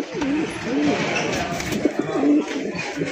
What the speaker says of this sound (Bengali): এক এক করে কবুতরগুলো দেখানোর চেষ্টা করবো